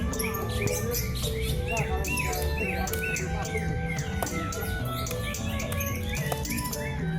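Songbirds at a bird singing contest in Depok, with lovebirds and other caged birds competing, a busy overlapping chorus of sharp chirps, squawks and trilling calls, loud and continuous amid a faint crowd murmur.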